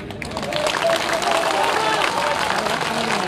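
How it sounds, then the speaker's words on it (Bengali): Youth wing members at a political workers' rally clap together, a steady dense patter of many hands lasting a few seconds with crowd murmur underneath. "যুবদলের কয়েকজন তালি দেন, কয়েকজন।"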